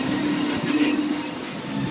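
A Universal Studios studio tour tram rolling along, a steady loud mechanical rumble with a faint whine, continuous and close throughout.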